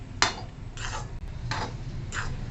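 A ghee and wheat flour mixture is stirred in a pan, heard as four separate scraping strokes of a spoon across the metal, close and steady with no voices.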